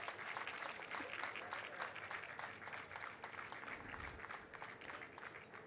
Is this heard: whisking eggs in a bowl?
no